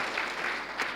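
Applause from an audience fills the whole second, a dense patter of clapping with a slight swell near the end and faint voices underneath.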